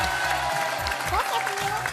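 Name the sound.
studio audience applauding a game show contestant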